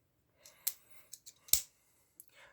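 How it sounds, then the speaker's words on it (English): Small Victorinox scissors from a keychain multitool are handled, giving a sparse series of light metallic clicks and one sharper snap, close and quiet. "let's whip out standard Victorinox scissors here."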